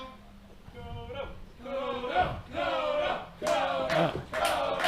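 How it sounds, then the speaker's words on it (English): A wrestling match crowd yelling and chanting in rising waves of massed voices, loud and sustained, with occasional thumps beneath. "Again, the crowd behind Koto Hiro here"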